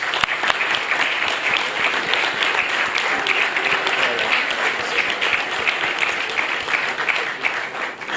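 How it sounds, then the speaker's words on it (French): Sustained crowd applause for a newly elected CCJA judge, Jean-Marie Kambouma, at an international OHADA scientific colloquium in the DRC, steady and dense from start to finish. "qu'on l'applaudisse"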